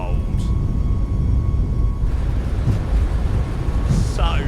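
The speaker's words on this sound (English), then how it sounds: "take off thrust is set" Engines of an Emirates Airbus A380 roar at takeoff thrust on a departure from Karachi, a steady, broad rumble heard from inside the aircraft, with brief voices over it.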